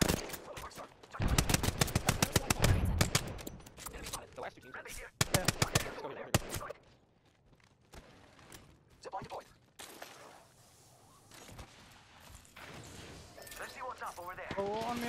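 Rapid bursts of automatic gunfire in an Apex Legends ranked match, dense volleys early then sporadic single shots and lighter clatter, with a player talking over parts of it.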